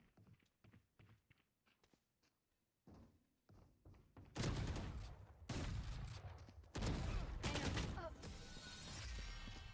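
Gunfire in a 2v2 video game skirmish: scattered quiet thumps and footsteps at first, then loud sustained bursts of rapid shots and impacts, with brief talk mixed in.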